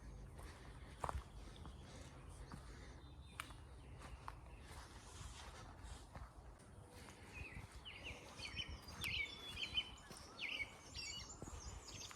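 Faint, scattered bird chirps and calls in a quiet, moss-covered green forest along a trail, with soft footsteps and rustling close by.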